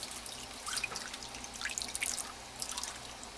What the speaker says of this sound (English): now I'm going to cover the bottom of the pan with water